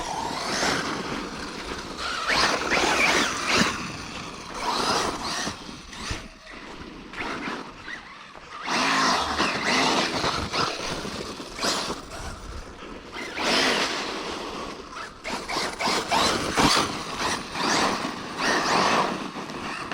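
An Arrma Typhon 6s RC car runs at full throttle outdoors in the morning, a loud, continuous roaring whine that surges and dips over twenty seconds of hard driving.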